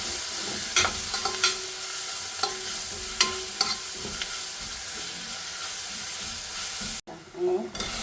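Crushed ginger and garlic sauté in a pan for a Kerala-style chicken curry, giving a steady close sizzle with scrapes of stirring throughout and a brief louder clatter near the end.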